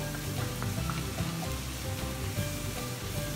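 White mushrooms stir-fried with scallion pieces in a wok, giving a dense, continuous crackling sizzle at close range with faint scraping, and no voices.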